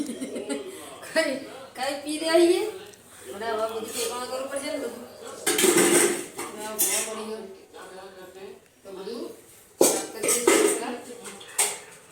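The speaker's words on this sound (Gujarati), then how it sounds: "વાસણ ભેગા કરી" Utensils and dishes being gathered up in a home kitchen after a meal, with intermittent metallic clatters and clinks of pots and cutlery close by, under ongoing talk and some laughter.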